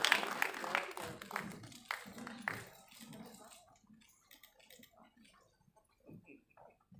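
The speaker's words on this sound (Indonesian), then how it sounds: "Nah ini tepuk tangan dulu buat Gala." Audience clapping for a guest at a film Q&A session, loud and dense at first, then thinning out into scattered claps and fading within a few seconds.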